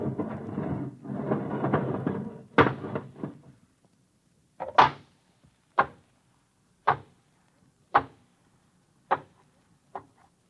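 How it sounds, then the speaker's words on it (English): An airlock inner door opens with a mechanical effect in a science-fiction radio drama: a noisy rumbling burst gives way to a series of sharp, evenly spaced clanks or latch knocks that ring briefly and fade, with no talking. "All right, open the inner door."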